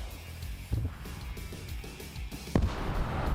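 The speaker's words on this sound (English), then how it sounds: "Satchel goes off in that building." A satchel charge exploding in a building during a video game battle, heard as a sharp, loud blast near the end, preceded by scattered distant gunfire thumps.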